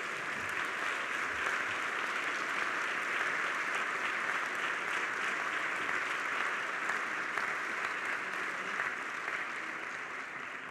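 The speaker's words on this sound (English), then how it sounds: "Yeah, you can clap for them" A church assembly applauds church planters with sustained, even clapping from a large crowd filling the room, steady throughout and easing slightly at the end.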